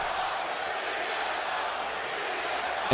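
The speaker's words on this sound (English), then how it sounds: "there you hear the crowd chanting for CM Punk, as they should." A WWE 2K video game crowd roars steadily for a wrestler, a continuous, dense arena chant-and-cheer wash holding even for a few seconds with no distinct talk.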